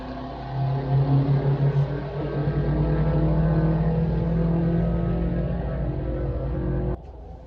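A manual 480 hp 1.8 turbo VW Polo GTI engine idles loudly and close by with a deep, lumpy burble that wavers at the start, then a steady rumble that drops away at the end.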